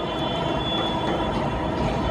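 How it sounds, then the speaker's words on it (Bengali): A Dhaka metro rail train passes near the stadium with a continuous, fairly loud rumbling roar of wheels on track and a thin steady high whine riding above it. "মেট্রো রেল যাচ্ছে"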